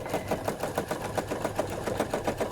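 A sewing machine quilts loops around fabric applique. Its needle hammers in a fast, even rhythm at close range, with a continuous mechanical whir beneath.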